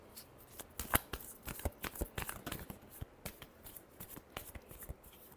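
Tarot cards shuffled by hand in a quiet room, a brisk, crackling run of riffles and soft flicks that rises and falls over several seconds, close and alone without speech.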